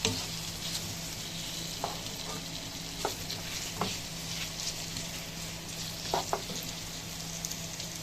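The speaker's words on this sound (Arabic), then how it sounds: "وهنشوح فيهم اللحمه عشان تبقى شكلها حلو وطعمها حلو" Beef searing in oil in a pan for Egyptian fatteh, a steady close sizzle with a few faint clicks from stirring, no talking.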